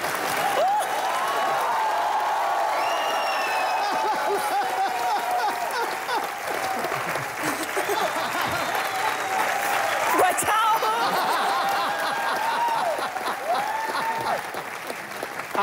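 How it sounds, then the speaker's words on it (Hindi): A television studio audience applauds for Deepika's cousin during a comedy show, sustained loud clapping that runs throughout while a voice talks and calls out over it. "सो जोरदार तालियां एक बार दीपिका की कजन सिपिका के लिए।"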